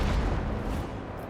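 A macro cannon volley from the Warhammer 40000: Rogue Trader game blasts out as a dense, loud, rumbling boom that fills the whole short moment and fades only slightly.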